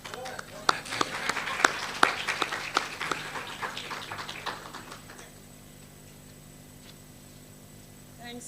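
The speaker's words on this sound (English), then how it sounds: "She's waiting for a hand clap." An audience at a youth work conference gives a speaker a round of hand claps: a scattered burst of sharp, uneven claps that thins out and fades after a few seconds, followed by quiet room noise.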